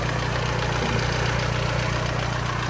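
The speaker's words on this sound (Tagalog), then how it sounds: "Okay pa ang makinaan niya." A 2012 Mitsubishi Strada 4x4 pickup with manual transmission idles close by, its engine holding a steady, even rumble throughout with no voices.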